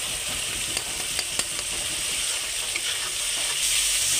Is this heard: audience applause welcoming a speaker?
no